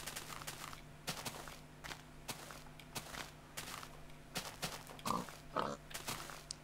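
A pig in the video game Minecraft gives a few grunts among soft footstep-like taps, with irregular clicks over a faint steady hum, and no talk.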